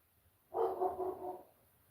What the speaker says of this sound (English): Someone got Thomas barking.